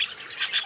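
Short bright chirps from small ornamental birds played from a bird stimulation recording, a few quick tweets in succession, fairly faint.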